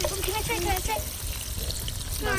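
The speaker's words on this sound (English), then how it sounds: "Coriander while we're stir frying garlic and ginger." Garlic and ginger stir-frying in a clay pot for a Pakistani village chana dal, with coriander nearby, give a steady close sizzle and scraping under voices.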